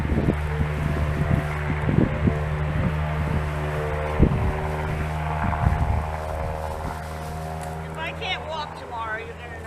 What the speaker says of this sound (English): that's a little Honda Civic going by that needs a muffler